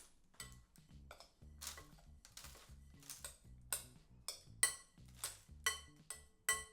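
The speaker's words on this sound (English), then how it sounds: "then we're just gonna scoop in our base" Biscuit base is scooped into a baking tin with a spoon, producing light irregular metallic clinks and taps, close and quiet, with no talking.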